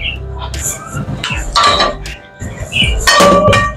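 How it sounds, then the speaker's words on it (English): Metal pot clanks and scrapes during washing in a home kitchen, with several clinks and knocks bunched in bursts, up close and fairly loud, with brief water-like rustling between them. "I'm gonna get my pot and I'm gonna wash this pot over here"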